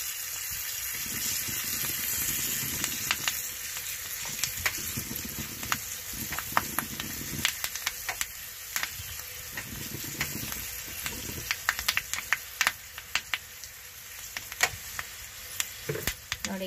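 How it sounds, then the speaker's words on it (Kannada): Asafoetida and curry leaves sizzle in hot oil as a tempering for capsicum gojju, a steady close frying hiss dotted with sharp crackles and pops throughout. "ಇದಕ್ಕೆ ಒಂದು ಸ್ವಲ್ಪ ಇಂಗನ್ನು ಹಾಕ್ತಾ ಇದ್ದೀನಿ ಅದರ ಮೇಲೆ ಕರಿಬೇವು ಹಾಕ್ತಾ ಇದ್ದೀನಿ"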